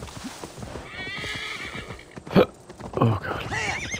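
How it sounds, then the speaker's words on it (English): A horse in Assassin's Creed Valhalla gives a loud close whinny and then a second neigh, over steady hoof clip-clop and game ambience. "Horse?"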